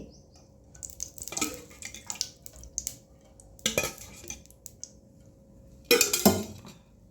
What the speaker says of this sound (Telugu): పన్నీర్ కట్ చేయాలా ముక్కలు